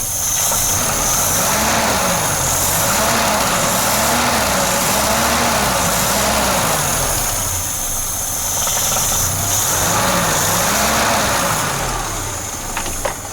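A Peugeot 505 2.0 engine fitted with a double barrel carburettor runs loud and close, its revs rising and falling in repeated smooth swells over a steady rumbling idle.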